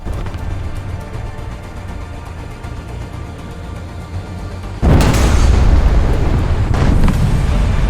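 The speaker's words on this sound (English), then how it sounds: "I don't think you'll see explosions get any bigger than this when one tank hits another." A huge, deep explosion of a tank shell in War Thunder erupts about halfway through, following a steady low rumble, and roars on with a broad sustained blast that lingers to the end.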